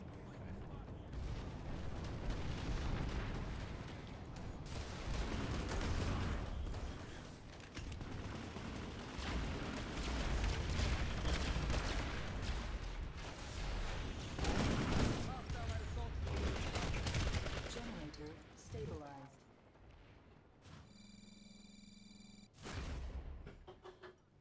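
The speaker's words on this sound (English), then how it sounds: "I'm just sniping some guys." Bursts of gunfire from a sniping session in a video game, dense and fairly loud, run steadily through most of the stretch under game music and a talking voice, then fade near the end.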